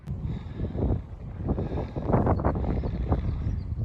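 Gusty wind buffeting the microphone on an exposed hilltop ridge, a dense low rumble that swells and fades in uneven gusts, close and loud throughout.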